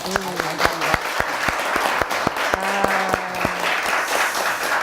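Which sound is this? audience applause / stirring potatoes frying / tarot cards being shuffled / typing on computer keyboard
audience applause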